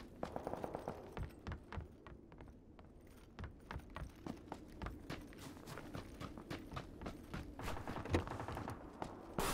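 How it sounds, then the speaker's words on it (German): Rapid bursts of gunfire crackle throughout in PlayerUnknown's Battlegrounds, some in quick volleys, others as single shots, fairly faint and distant-sounding with no talking. "Die Schüsse kommen immer näher."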